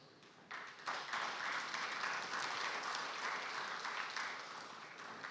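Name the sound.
audience applause for the Nigerian livestock minister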